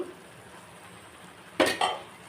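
Raw prawns are tipped into a pan of cooked cucumber curry and stirred, giving two quick, close metallic clatters of utensil on pan after a stretch of near silence.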